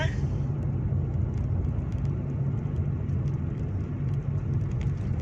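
A car drives slowly along a narrow two-lane road through forested countryside in Thailand, a steady low engine and tyre rumble with wind noise throughout, close and unbroken, with no talking.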